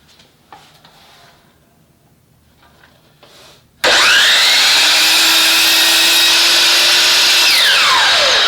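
A loud power saw cuts wood for a lockbox. After a few seconds of quiet knocks and handling, the blade starts abruptly and whines steadily through the cut, then its pitch changes near the end.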